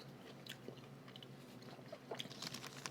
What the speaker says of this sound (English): Once again, this is why we edit out the chewing.